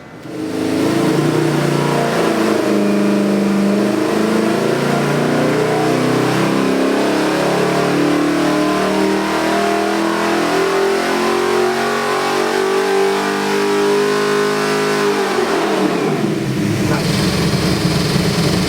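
A 598 cubic inch Big Block Chevy crate engine with multi-port fuel injection, built turbo-ready with about 9.3 to 9.4 compression, revs hard and loud in a long sustained pull, then drops back to a rough idle near the end.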